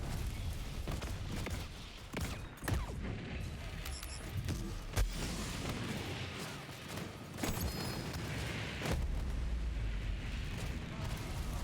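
Grenade explosions in Borderlands 3, dense continuous game combat with repeated booming blasts and gunfire layered over one another throughout.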